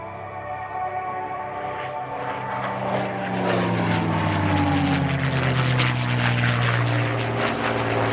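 A P-51 Mustang propeller plane at an airshow drones steadily, its engine growing louder and deeper as it passes close overhead.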